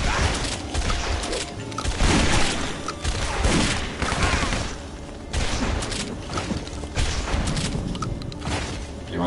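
Bursts of video-game gunfire as zombies shoot back in a gang-violence game, rapid loud volleys and booms coming in waves with brief lulls between them.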